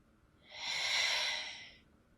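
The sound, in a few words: deep breathing during yoga pose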